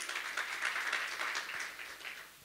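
A church congregation claps during a Sunday worship service, a steady, moderately distant wash of hands with no clear individual beats, fading slightly toward the end.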